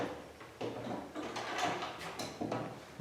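Wooden pocket doors sliding smoothly along their tracks in a house, a soft rolling rumble with light bumps, heard close in a quiet room.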